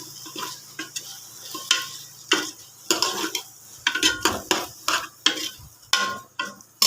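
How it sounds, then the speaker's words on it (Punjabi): A spoon stirs potatoes and peas in a pan while cooking a Punjabi aloo matar dish, making a quick series of close, sharp scrapes and clinks against the metal with no one talking. "ਤੇ ਥੋੜਾ ਜਿਹਾ ਹਿਲਾ ਦਾਂਗੇ"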